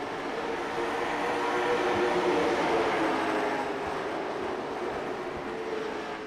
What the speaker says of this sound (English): Oh, can you hear the freight train coming?